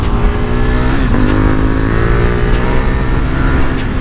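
A KTM 890 Duke motorcycle engine accelerating, loud and close, its steady growl climbing in pitch through a brief rev with no one talking.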